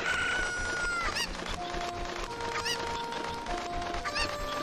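Chickens cluck and squawk in the video game Zelda Ocarina of Time hack, several short bird calls over continuous game music and effects, moderately loud.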